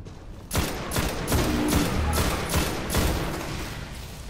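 Rapid gunfire rattles in bursts of repeated sharp shots in the Destiny video game, weapon fire hammering loudly against a wall for several seconds with little else heard.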